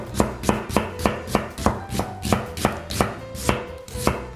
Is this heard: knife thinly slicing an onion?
yes